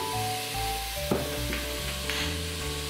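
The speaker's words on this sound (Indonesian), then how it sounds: "mau tumis satu persatu paprika, zucchini, dan terong" Bell pepper, zucchini and eggplant sautéing in oil with onion for ratatouille, a close, even sizzle with a couple of light utensil knocks.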